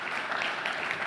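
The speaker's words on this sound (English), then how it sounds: "Join me in a warm round of applause." Steady applause from a crowd, dense clapping at an even level throughout the short stretch.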